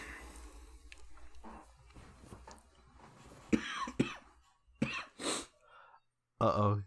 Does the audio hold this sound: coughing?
yes